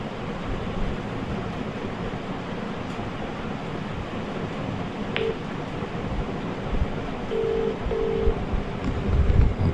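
A phone number is dialed outdoors while travelling by road: a few short keypad tones sound near the end, over steady wind and rushing background noise.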